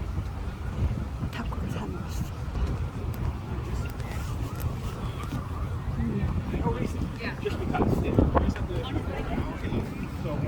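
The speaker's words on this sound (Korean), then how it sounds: "어, 춥습니다. 바람이 불고" Cold wind blows steadily at Brooklyn Bridge Park by the water, a dense, rumbling buffeting noise that runs unbroken throughout, loud and close to the microphone.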